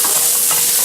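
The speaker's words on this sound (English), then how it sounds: "So we're going to stir again." Dirty rice stirred in a hot pan, a brief close scrape with a steady sizzling hiss underneath.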